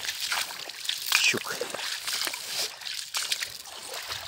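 Feet wading along a stream by an old village, water sloshing and splashing with each step in close, uneven bursts, while someone speaks briefly over it.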